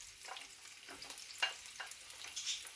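Onion, garlic and ginger fry in a pan for pinakbet, giving a soft, steady sizzle with bursts of crackle and the scrape of stirring, close and faint with no voices.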